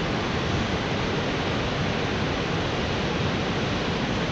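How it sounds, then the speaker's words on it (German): A waterfall on a hiking trail near Kinsarvik, Norway, roars as a steady, dense rush of falling water, loud and unbroken throughout with no voices over it. "Wasserfall Nummer 2."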